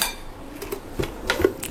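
Metal spoon tapping and clinking against parts of an Izzo Alex PID espresso machine, a few sparse bright clinks and light scrapes, close and fairly quiet, with no one talking.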